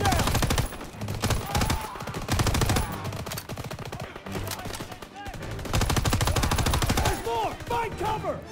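Dense, loud gunfire from soldiers in the Call of Duty WW2 video game, with rapid machine-gun bursts and fusillades rattling almost continuously, with shouted voices over the shooting.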